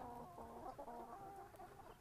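Chickens clucking outside an eggmobile, a close, continuous murmur of overlapping soft clucks and trills from several birds at once.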